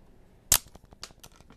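A Transformers Hailstorm toy figure in robot mode fires its missiles with one sharp, loud plastic snap, followed by a few faint light rattles and ticks.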